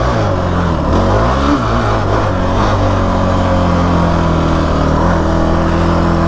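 A Kawasaki KFX 450R ATV engine revs loud and close while riding, a continuous buzzing roar that swells and dips in pitch as the throttle changes, with no talking.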